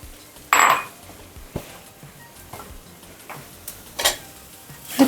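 Grated cauliflower is stirred in a pan over low gas, with a few sharp scraping and clinking strokes of a spatula against the pan and a soft sizzle between them.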